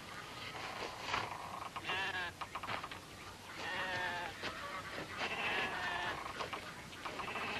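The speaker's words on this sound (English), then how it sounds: "Now, these are sheep, boy." A flock of sheep bleats repeatedly, several overlapping wavering cries rising and falling at close to middle distance over a steady outdoor background, with no talking.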